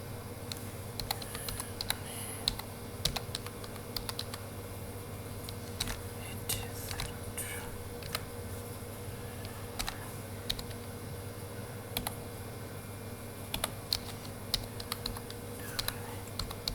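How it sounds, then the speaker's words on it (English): Typing on a computer keyboard while filling in a website registration form, steady close key clicks in irregular bursts running throughout with no talk. "Let me type again."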